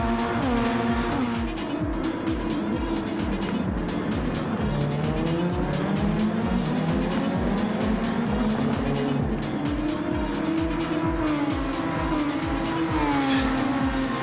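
Racing cars on the Suzuka circuit in an SF23 custom car championship finale game, a near engine screaming through rapid gear shifts with rising and falling revs and tire squeal, others droning alongside continuously.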